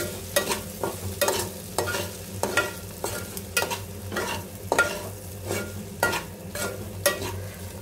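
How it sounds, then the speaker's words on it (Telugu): Okra fry tossed with dried coconut powder in a pan makes a rhythmic series of stirring scrapes, about two per second, over a soft sizzle. "ఎండు కొబ్బరి పొడి యాడ్ చేసుకొని మిక్స్ చేసుకోవాలి"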